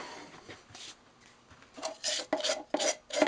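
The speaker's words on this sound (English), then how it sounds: "Now we'll just go ahead and sand that up." Rasping strokes of sandpaper against a turned purpleheart wood pendant, starting faint and sparse, then growing louder in four quick, close bursts.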